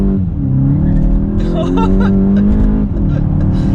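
A Volkswagen Golf GTI launches hard from a standstill on a wet surface, its engine rising loud and close as it struggles for traction, with a driver talking over the roar.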